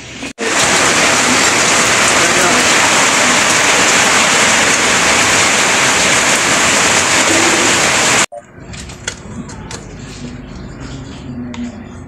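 Steady heavy rain pours loudly for several seconds, then cuts off abruptly, leaving quieter ambient sound with faint scattered drips.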